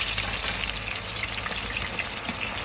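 About 1.5 kg of chopped onions frying in hot ghee in a large commercial batch for chicken biryani, a loud, dense, continuous sizzle like heavy rain, steady and close with no voices.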